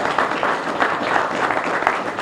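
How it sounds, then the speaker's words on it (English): An audience applauds at a public meeting on a business recovery assistance program, a dense, steady wash of clapping that carries on throughout at moderate distance. "y'all should clap a little bit harder for her"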